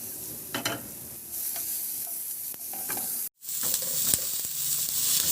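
Crushed garlic with its skin and onion sauté in a pan, a steady close sizzle broken by stirring scrapes and a brief pause in the frying.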